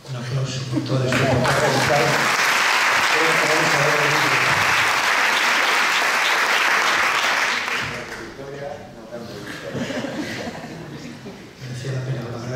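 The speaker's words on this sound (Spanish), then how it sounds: "Creo que Ricardo merece un aplauso por todo esto." An audience at a memorial tribute to Lola González Ruiz breaks into loud, sustained applause for several seconds with a few chuckles. Speech is heard before it, and talk resumes as the clapping dies down.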